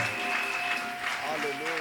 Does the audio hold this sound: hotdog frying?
no